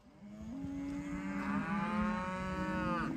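Beef cattle in an upstate New York pasture give a long, drawn-out moo. The call is fairly close and rises, holds, and bends in pitch over about three seconds above a soft outdoor background, with no talking.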